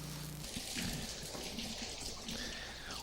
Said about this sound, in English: Thousands of gallons of water pouring down, described as a waterfall from the ceiling, with video to support that statement.